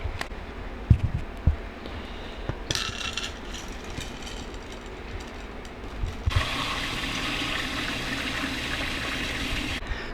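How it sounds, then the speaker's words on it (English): Hot water poured over oats to soak them for baked oatmeal, a steady splashing and running water sound that starts softly, then swells into a louder continuous gush before stopping abruptly near the end. "we're going to soak them in hot water."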